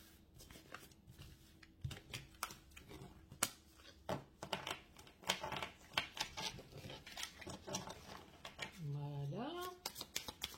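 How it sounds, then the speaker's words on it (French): Tarot cards being shuffled by hand in an irregular, unusual way, giving quick soft riffles and papery pats that come in bursts while someone talks quietly in French. "Je mélange le tarot d'une façon un peu bizarroïde."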